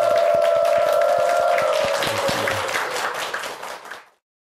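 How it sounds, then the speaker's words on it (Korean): A studio audience at a Korean morning talk show applauds a retirement-planning lecturer, a full, even burst of many hands under a sustained music tone, fading out after about four seconds. "감사의 박수 부탁드리겠습니다"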